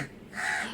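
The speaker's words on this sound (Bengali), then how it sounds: "কাকা ডাকছে, চিঙ্গি চিঙ্গি কাকা ডাকছে" A crow caws twice in quick succession, loud and close, with a brief rising call followed by a longer harsh one and no other sounds around it.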